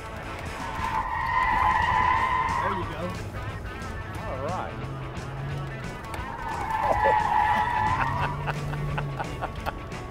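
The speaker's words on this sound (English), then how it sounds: "So now you're anticipating the car breaking loose on it." A car breaking loose and skidding on a driver training course at a training center, two drawn-out tire squeals a few seconds apart, fairly close, with people talking over and between them.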